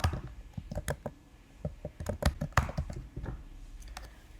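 Computer keyboard being typed on in quick, irregular bursts of clicky keystrokes, close and fairly quiet, with short pauses between groups of keys, entering an email address.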